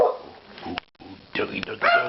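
A dog barks in short, sharp bursts close by, with a brief silent gap in the middle and excited human voices around it.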